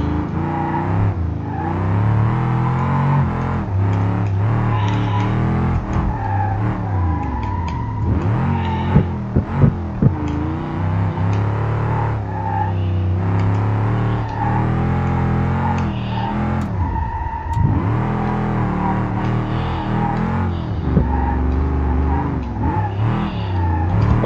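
A classic muscle car with a drift-spec setup slides through BeamNG, its engine revving hard and continuously, pitch surging and dipping as the throttle is worked, loud and close throughout.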